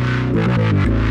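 A Behringer DeepMind 12 synthesizer plays a thick 12-voice unison patch through rack reverb and Midas EQ: sustained, droning chords that shift pitch in several steps, loud and continuous with no talking.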